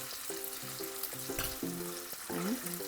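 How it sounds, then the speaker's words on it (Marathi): Sliced potatoes with turmeric and chili powder fry in a pan, giving a soft, steady sizzle that stays quiet and low, with faint tonal music over it. "नंतर परत छान असं फ्राय करायचं"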